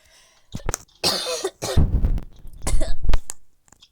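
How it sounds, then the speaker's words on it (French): A person coughs up close in several loud, rough bursts, the hacking fits coming in clusters separated by brief pauses, with a throat-clearing quality. "J'ai une toux. J'ai la toux."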